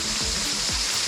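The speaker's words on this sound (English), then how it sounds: "this is a beautiful waterfall" A waterfall at the Garden of Caves in Meghalaya gives off a continuous, dense rushing roar of falling water, loud and steady with no pauses.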